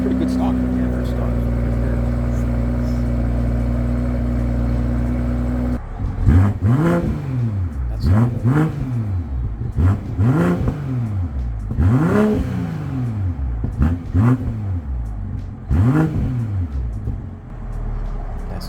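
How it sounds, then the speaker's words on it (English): A stock 2021 BMW M340i with its B58 engine and factory exhaust, set in Sport Plus, first idles with a low drone, then revs repeatedly in rhythmic bursts, about six loud climbs and drops, with brief talk. "we're gonna hear what his car sounds like since it's completely stock, and he's gonna put it into Sport Plus"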